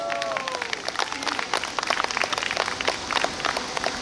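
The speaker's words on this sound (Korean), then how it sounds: "여러분들 토닉 섹션 팀에게 박수 부탁드리겠습니다" An outdoor audience at a fusion jazz band's concert in a city plaza claps steadily for several seconds. The applause is moderate and dense, a continuous patter of many hands, with brief voices in the background.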